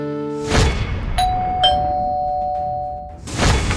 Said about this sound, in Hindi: तो तू बेल बजा रहा था?